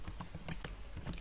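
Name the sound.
typing code on a computer keyboard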